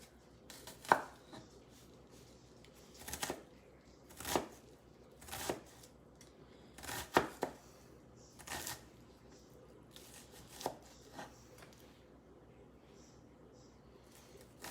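Kitchen knife slicing partway through an onion for Tuscan pork-stuffed peppers, about ten separate crisp cuts spread unevenly over several seconds against a quiet room.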